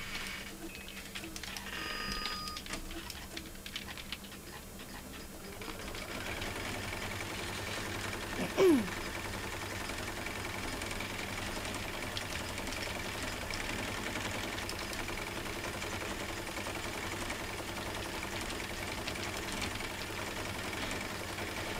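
A computerized embroidery machine stitching a boutique quilt block, a steady, even mechanical whir with rapid needle ticking that runs throughout at moderate volume, with no talking.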